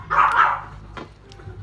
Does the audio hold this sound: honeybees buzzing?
no